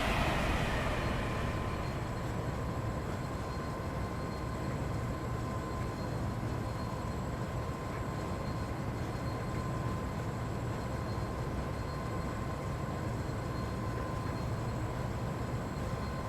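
A Great Western IET train in the Train Sim World 6 simulator runs as a continuous rumbling, humming rail noise with steady tonal whine, holding level throughout without voices.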